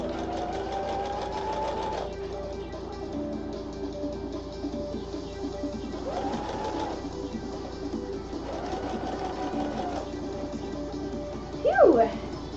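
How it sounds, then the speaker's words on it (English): A sewing machine stitches fabric in a steady, close whirring run with a few brief pauses and speed changes, ending in a short louder clatter. "we're gonna sew this on"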